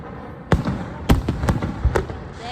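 Fireworks thrown into water explode in a string of sharp, loud bangs, about five distinct blasts spread over a couple of seconds with crackling rumble between them, close to the listener.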